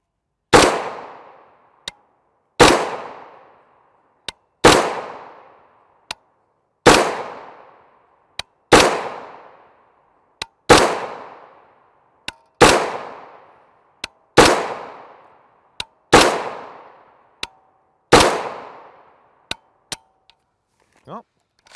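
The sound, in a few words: AR-15 rifle firing 5.56x45mm 62gr FMJ M855 ADI rounds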